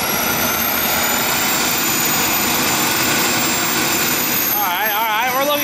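Loud, continuous high-pitched whine and roar of a jet turbine engine mounted on a radio-controlled truck, sustained and close throughout, with a rising and falling warble near the end.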